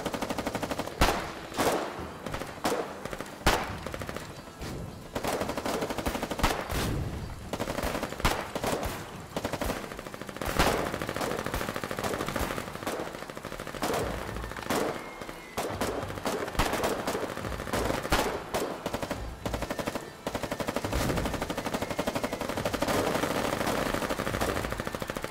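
Rapid SMG fire in the war game Foxhole, with dense, crackling bursts of automatic shots repeating almost without pause, some close and loud, others further off, layered over a constant battlefield din.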